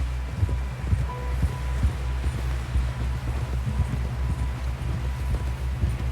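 Horse hooves clip-clop at a steady walking rhythm in the Western video game Red Dead Redemption 2, close and regular over a low ambient rumble, with no talk.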